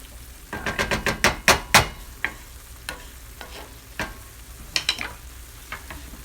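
Scrambled tofu is stirred in a frying pan, giving a quick run of sharp utensil scrapes and taps over a soft sizzle, then sparser knocks.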